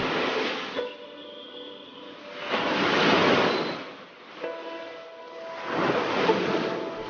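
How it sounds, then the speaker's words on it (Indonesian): Waves break and wash up onto a white sand beach in slow, broad surges that swell and fade, heard alone with no voices. "Hamparan pasir putih berselimut deburan ombak menari menggoda."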